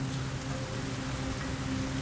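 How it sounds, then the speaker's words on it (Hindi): Steady rain falls at night, a continuous, even hiss of drops on surfaces that holds at a constant level for the whole stretch, with no voices over it. "जैसी बारिश हो रही है, अगर सारी रात भी चलती रही तो भी हैरत की कोई बात नहीं है"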